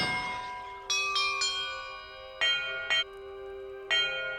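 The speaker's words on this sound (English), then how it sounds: "Perhaps the map contains clues about the order I'm supposed to ring the bells in." Bells ringing during a puzzle in the video game Hogwarts Legacy: about six clear struck tones in an irregular sequence, each with a bright metallic attack and a long, shimmering ring that overlaps the next, with no talking.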